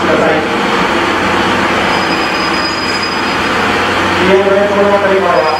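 A diesel-hauled train rumbles into Aizu-Wakamatsu Station, Japan, with a steady roar and rising wheel squeal near the end, while a station announcement plays over it.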